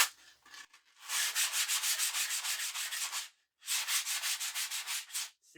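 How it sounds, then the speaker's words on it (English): Leftover grip tape rubbed hard along a skateboard's edge, rhythmic rasping sanding strokes in two long close bursts separated by a short pause, loud and dry with no talking. "sands around the edge real good"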